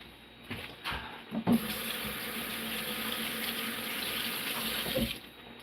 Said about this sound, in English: One of my fish has fallen. I'm just gonna wash it.